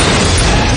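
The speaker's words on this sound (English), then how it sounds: "our group runs into trouble on the road, and this causes their truck to blow up" A truck blowing up on a road in Fear the Walking Dead, heard as a loud, dense, sustained blast roar with crackling debris filling the whole short moment.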